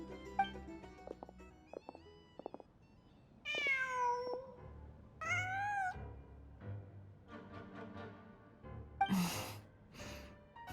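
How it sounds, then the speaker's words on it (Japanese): Cat meowing in a video game, a few drawn-out harmonic mews spread across the stretch, with quieter clicks and ambient game sounds between them and no talk over it. "なんだ、猫かい。"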